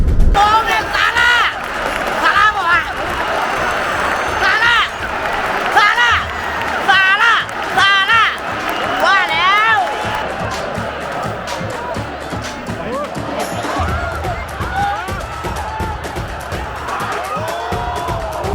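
Liverpool fans in a packed Anfield crowd during a match against Arsenal cheer and whoop loudly, a continuous roar of massed voices with rising shouts and chanting, and nearby talk mixed in.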